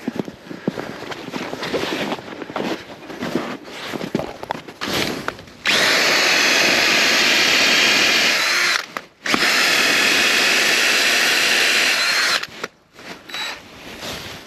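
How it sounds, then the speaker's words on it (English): A power drill whirs loudly in a long steady burst, with shorter spurts of drilling and brief pauses before and after. "let's go drill."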